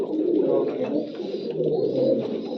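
Pigeons from a prized Punjabi flying stock coo in a low, continuous rolling murmur, several birds overlapping close by with a steady, soft drone and no talk.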